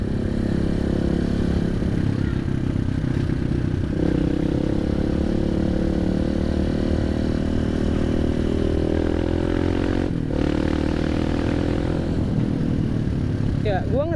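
KTM motorcycle fitted with a Norifumi Evo stainless D-Tracker exhaust, ridden in a forest area, its engine droning steadily and loud throughout with clattering mechanical noise and shifts in pitch as it revs.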